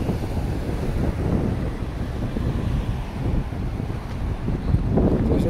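Cold winter wind blowing in downtown Dartmouth, a loud continuous rumbling gust buffeting the microphone close up, with no talking.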